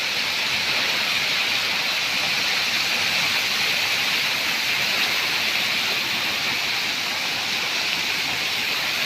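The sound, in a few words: strong floodwater flowing after continuous rain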